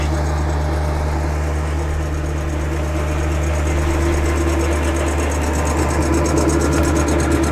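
A WoodMaxx wood chipper engine runs steadily nearby with a loud, even hum and a rapid rhythmic mechanical pulse throughout.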